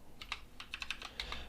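Fingers type quickly on a computer keyboard while entering Python code, a close, quiet run of about a dozen light key clicks in an uneven rhythm with no talking.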